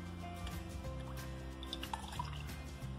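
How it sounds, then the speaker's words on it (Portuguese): Milk ladled from a pot into a glass while making a strawberry and cornstarch dessert, a faint, soft trickle with light drips and small splashes, close by and quiet. "eu vou pegar aqui 2 conchinhas de leite"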